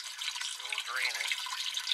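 Rusty water draining off a floor, a soft, continuous trickle and splash with a slight gurgling sweep midway, fairly quiet and close by.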